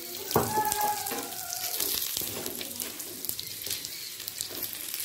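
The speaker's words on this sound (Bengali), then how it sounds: "এবার সাদা তেল দিয়ে পুরিগুলোকে ভেজে নেব।" Dal puris made with matar dal fry in hot white oil, a soft steady sizzle with a few louder crackles and clinks near the start, fairly quiet overall.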